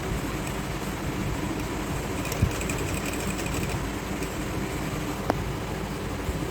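Sewing machine stitching elastic onto the waistband of trousers, a steady continuous motor whir at close range with a couple of brief clicks, no talking.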